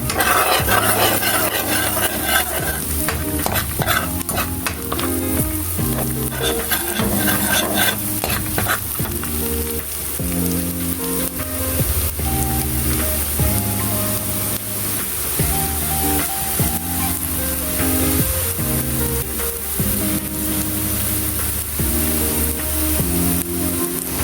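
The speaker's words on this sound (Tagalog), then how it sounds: "Lulutuin natin maigi yung bawang para mas lalong bango." Chopped garlic frying in a pan for garlic buttered shrimp, a loud continuous sizzle with steady stirring and scraping of the spatula against the pan, alone with no voices.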